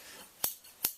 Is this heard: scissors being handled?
yes